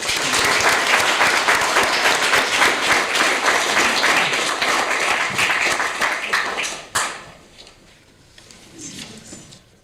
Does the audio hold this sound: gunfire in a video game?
no